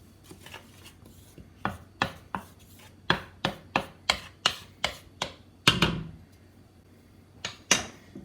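Dry ingredients for buttermilk biscuits are mixed in a bowl, a series of sharp, regular knocks and scrapes of a utensil striking the bowl, about a dozen hits in quick rhythm, close and clear.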